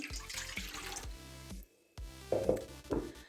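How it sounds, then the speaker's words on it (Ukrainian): Warm water is poured for dough for meat baked in dough-covered pots, a soft trickling stream close by that pauses briefly and then resumes with a few splashy gurgles. "Для тіста нам треба тепла водичка"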